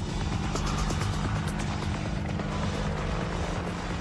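Steady, close whirring drone of an Apache Longbow attack helicopter's rotors, a continuous dense roar with a faint rhythmic chop and no voices.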